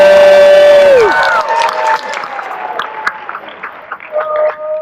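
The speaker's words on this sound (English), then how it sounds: "give me a round of applause, make some noise if you think Alejandro is telling the" A cruise ship game-show audience cheers and claps. A long sustained shout falls away at the start, then a mix of whoops, claps and crowd noise rises and dips unevenly.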